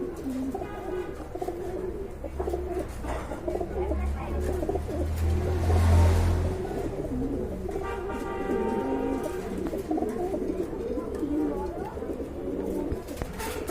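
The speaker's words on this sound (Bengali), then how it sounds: "এক জোড়া আফসান গ্রিজেল কবুতর মাশাল্লাহ খুবই সুন্দর বিগ সাইজের কোয়ালিটি ফুল কবুতর" A big pair of Afsan grizzle pigeons at a market, cooing low and throaty in a repeating rhythm over busy background noise, with a swell of cooing midway and faint chirps; no talking.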